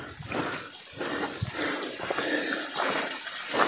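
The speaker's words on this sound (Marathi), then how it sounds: "अतिशय स्वच्छ आणि खळखळणारं पाणी मे महिन्याच्या एंडिंगला चालू झालेलं आहे" A clear, fast mountain stream of drinking water gurgles and splashes on a monsoon trek at Harishchandragad, close by and continuous with no voices.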